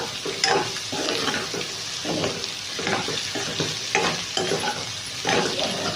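Egg fries in a pan for a paratha with paneer and potato, a steady close sizzle broken by repeated stirring and scraping.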